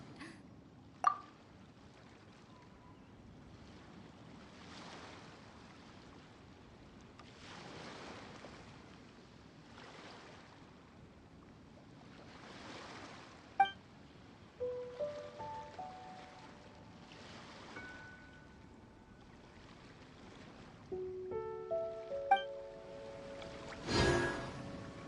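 Calm ocean waves in Genshin Impact roll in slow, regular, faint swells, with a few light chimes and clicks near the end.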